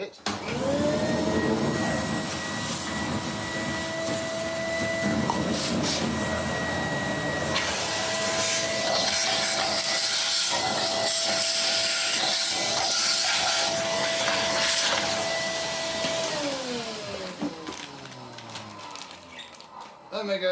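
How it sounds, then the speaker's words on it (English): A vacuum cleaner, a German model, runs steadily and loud for about sixteen seconds with a constant whine, then winds down at the end, its pitch sliding lower. A voice speaks over the motor. "let's clean out this machine before we've even used it."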